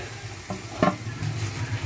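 Eggplant pieces drop into spiced masala frying in a pan, a soft steady sizzle broken by a couple of thuds and a brief clatter as they go in.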